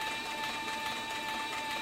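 A heavy-duty sewing machine stitches leather saddle skirts with a steady, fairly loud mechanical whir and a constant high whine running throughout, with no voices.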